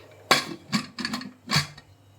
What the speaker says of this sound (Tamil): இப்போ வந்து குக்கரை மூடி